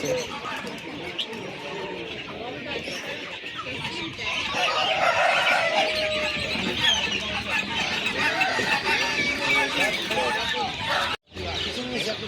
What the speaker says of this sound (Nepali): यो चाहिँ लगभग हाट बजारमा आएर चाहिँ कुखुराहरू लिइसकेका छौँ